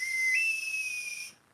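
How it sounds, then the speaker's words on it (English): A whistle blows in one long, steady, shrill note with a slight pitch step near the start, loud and close, then cuts off abruptly into quiet. "I am going to blow my whistle."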